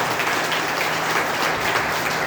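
Steady applause from an audience at a meeting of railway and defence employees' federations, a continuous dense wash of clapping with no gaps, fairly loud and close, with no speech over it.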